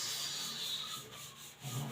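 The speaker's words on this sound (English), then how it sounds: "So I will erase this." A board being erased during a maths lesson, with a steady scrubbing rub of the eraser dragging across the surface for about two seconds, close and fairly quiet, with no talk over it.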